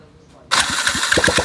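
After a quiet moment, a small engine fired up following an ignition coil replacement catches abruptly and runs at a rough, loud, pulsing idle up close.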